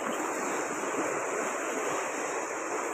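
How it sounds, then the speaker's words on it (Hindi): Water pours through an opening into a large canal, a steady broadband roar of rushing flow that stays loud and even throughout, with no voices over it. "तो ये सब यहाँ से पानी आता है हमारे बड़ी नहर में, ये बड़ी नहर है"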